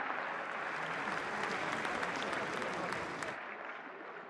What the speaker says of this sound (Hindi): तालियों के साथ स्वागत करें माननीय